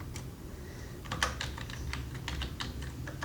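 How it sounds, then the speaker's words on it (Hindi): Typing on a computer keyboard while entering a C++ program, close irregular key clicks and taps in quick bursts over a low steady background hum. "इसके बाद मैं लिखता हूँ न्यू लाइन कैरेक्टर"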